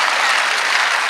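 A large audience applauds loudly and evenly in a dense wash of clapping at a Hindi comedy poetry performance. The burst is brief and has no talking over it.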